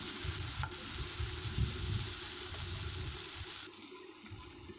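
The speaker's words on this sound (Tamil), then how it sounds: "இப்போ காய்களையும் சேர்த்து வதக்கலாம் கொஞ்சம் எண்ணெயிலே நல்லா வதங்க விடுங்க" Mixed vegetables with tomato sautéing in a little oil for a vegetable gravy, a continuous close sizzle with soft stirring scrapes, easing off near the end, with no talk.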